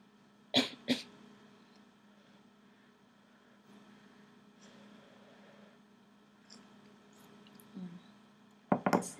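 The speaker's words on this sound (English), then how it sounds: "I think I'm going to cough." A couple of sharp close coughs at the start, quiet room tone in between, then another burst of coughing at the end.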